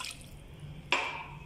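One cup of water goes into a karahi holding 1 kg of chicken: a sudden splash of liquid lands partway through, hissing briefly before settling into a faint wash.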